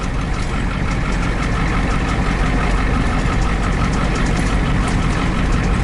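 A heavy-duty diesel van with an E4OD four-speed overdrive and Dana 70 rear end drones loudly and steadily from inside the cab while driving, a dense low rumble with a rough knocking texture and no talk.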